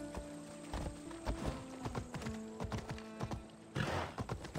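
A horse galloping in the video game Assassin's Creed Odyssey, a steady run of hoof clip-clops with a brief whinny-like burst near the end, moderately quiet.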